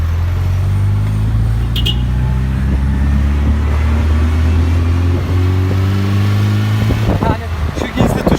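A car fitted with nitrous runs with a loud, steady engine drone throughout, rising into sharper revving bursts near the end, with people talking over it.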